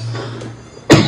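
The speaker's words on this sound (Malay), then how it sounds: "saya batuk." A single sharp cough near the end, close and loud, following a brief low hum.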